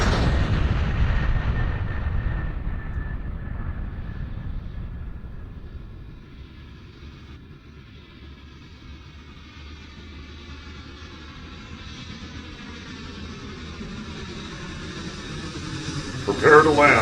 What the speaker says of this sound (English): Fasten your seatbelts. Get ready for takeoff.